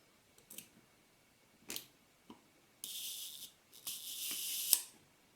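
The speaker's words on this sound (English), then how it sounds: "Fully open the shutter." A Mamiya-Sekor C 127mm f/3.8 leaf-shutter lens for the Mamiya RB, handled on a bench while its shutter is opened, gives several soft mechanical clicks and rattles, then two longer brushing, whirring stretches, close and quiet with no talk.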